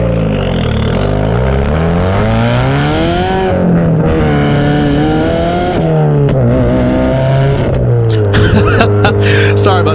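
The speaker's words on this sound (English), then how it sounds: "that's also just wanted you guys to hear the exhaust note" A manual car's engine and exhaust note rise and fall through gear changes as it accelerates from a red light, the pitch climbing, dropping and climbing again, loud and close, with no talking.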